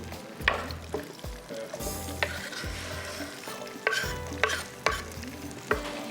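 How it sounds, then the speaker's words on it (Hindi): Creamy basil chicken frying in a pan in a home kitchen, steady sizzle with repeated spoon stirring and scraping knocks, close and alone. "थोड़ा बस इसको फ्राई करते हैं यहाँ पर।"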